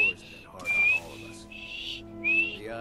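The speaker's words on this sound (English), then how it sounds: "let's give her a whistle" A person whistles in Skyrim: three sustained high notes with gaps between them, close and clear over faint background game ambience.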